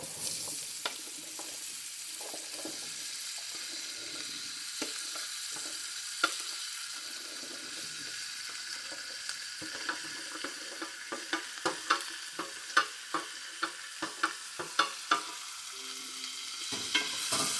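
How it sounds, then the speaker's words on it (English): Potatoes and onions cooking in a butter-and-garlic skillet: a low, even sizzle under frequent sharp utensil clacks and scrapes, which grow more rapid and pronounced toward the end. "Now we're going to add our potatoes and our onions."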